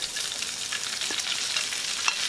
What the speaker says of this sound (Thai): ผัดเลยผัดเลย ผัดเลยผัดเลย